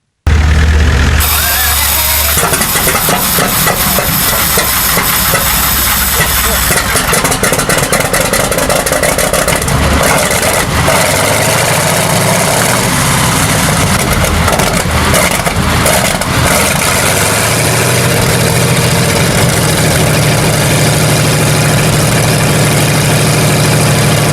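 A Continental R975C4, a 15.9-liter air-cooled 9-cylinder radial engine from a restored WW2 Sherman M4A1E8 tank, cranks and fires into a loud, rough idle that settles into a steady, throbbing rumble close by.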